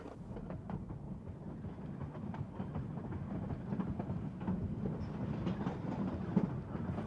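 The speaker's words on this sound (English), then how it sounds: "our train continues its descent as the tracks skirt the Toltec Valley" Cumbres & Toltec Scenic Railroad narrow-gauge train rolling downhill on tracks skirting the Toltec Valley, a steady low rumble with faint rhythmic clicking of wheels over rail joints, moderately distant and continuous.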